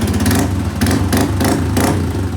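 A Honda Click scooter engine idling after an ECU repair, running loud and close with a steady rumbling drone and periodic clattering pulses, no voices over it.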